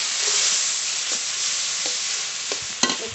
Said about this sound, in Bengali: এবার পরিমাণ মতো লবণ, হলুদ গুঁড়ো সব একসঙ্গে ভালো করে কষিয়ে নেব।